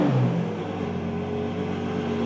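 Ferrari Purosangue V12 engine started with its exhaust valves manually closed, a short burst of revving that settles into a smooth, steady idle hum, heard close with no talking.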